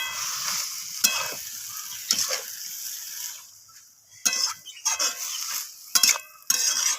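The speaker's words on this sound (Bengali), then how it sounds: "তো নোটে শাকগুলো আমি এইভাবে খুন্তি দিয়ে একটু সব কিছুর সাথে নাড়িয়ে চাড়িয়ে দিচ্ছি।" A metal spatula stirring note greens in a hot pan: scraping and clinking strokes arrive in irregular bursts over a soft sizzle, with quiet gaps between them.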